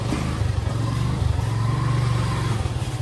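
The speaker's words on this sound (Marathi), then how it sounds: "आपण इकडे आपली गाडी पार्किंग करूया अशाच प्रकारे." A motorbike engine rumbles close by as the rider parks on a solo ride, a steady low idle with light revs rising and falling.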